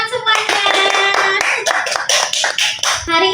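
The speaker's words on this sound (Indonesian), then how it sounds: "Tepuk tangan semuanya." An audience at an Islamic preaching talk show applauds a guest, a dense burst of hand clapping that stays loud and steady throughout.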